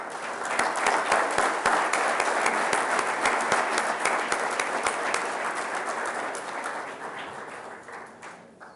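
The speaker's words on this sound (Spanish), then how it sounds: "Démosle un aplauso a todos, por favor." Audience at a 2014 forestry seminar applauds award recipients, a loud, dense wash of clapping from a full room that holds steady and then slowly tapers off toward the end.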